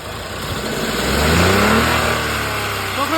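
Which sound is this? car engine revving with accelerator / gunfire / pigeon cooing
car engine revving with accelerator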